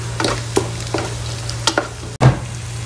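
Masala spice powders sautéed in a pan for Palakkad-style chicken biryani: a soft sizzle under repeated scraping and stirring strokes of a spatula, close by, with a sharp knock near the end and no talking.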